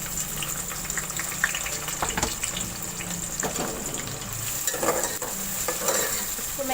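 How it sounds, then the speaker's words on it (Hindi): Sliced onions fry in half a cup of hot oil in a pan, giving a steady close sizzle with occasional stirring scrapes and clinks. "आधा कप ऑयल लिया है, उसमें मैंने प्याज डाल दिया, गोल्डन ब्राउन हो जाएगी।"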